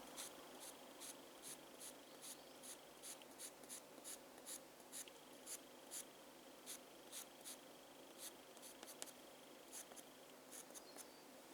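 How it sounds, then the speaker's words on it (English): A pencil drawing on paper while a peacock illustration is detailed, quick scratchy strokes arriving in short irregular bursts, close and quiet against a soft hiss, with no talking. "can add more detail with pencil."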